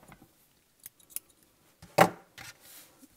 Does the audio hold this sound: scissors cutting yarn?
yes